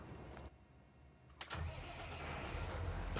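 A tractor hauling a slurry tanker in Farming Simulator 19 sits quiet for a moment, then its engine catches with a sharp burst and settles into a steady, close, low rumbling drone.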